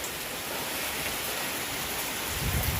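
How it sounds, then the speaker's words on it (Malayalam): Heavy rain pours in a steady, dense broadband roar across a village in a strong monsoon downpour, with trees tossing, rising slightly in force toward the end; no voices are heard. "തോർന്നു നിന്നതിലും 10 ഇരട്ടി ശക്തിയോടെ ദാ മഴ പെയ്യും"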